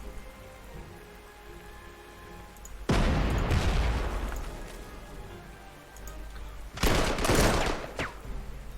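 Artillery fire in the WWII strategy game Panzer Corps 2, two loud bursts of rumbling, crackling explosions rising out of a steady background hiss, each lasting a few seconds, with no talking.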